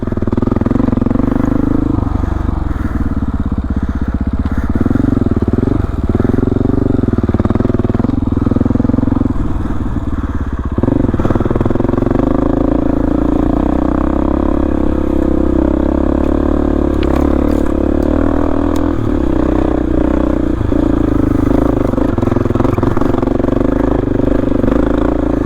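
A dirt motorcycle fitted with an upgraded rear sprocket rides a thawing mountain trail, its engine droning loudly and steadily throughout, rising and falling with throttle changes amid occasional clatter and thumps over rough ground.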